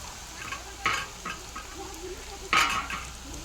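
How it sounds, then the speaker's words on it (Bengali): Round dough balls dropped one at a time into hot oil, a soft continuous sizzle with a few sharper crackling bursts and clinks, the loudest near the end. "এগুলো দিয়ে দিচ্ছি তেলে এক একে করে।"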